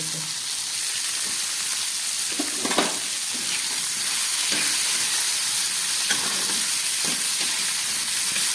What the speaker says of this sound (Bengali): খুব ভালো করে আমি ভেজে নিচ্ছি আর সামান্য একটু নুন দিয়ে দিলাম